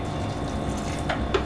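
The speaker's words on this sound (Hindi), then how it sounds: "इसमें थोड़ा सा पानी शामिल कर लेंगे" Water trickles into ground rice in a kitchen, a steady light liquid pour with a couple of brief splashy bursts toward the end, no speech.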